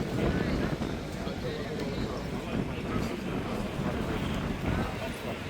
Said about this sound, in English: I'm sorry if it's a little bit windy.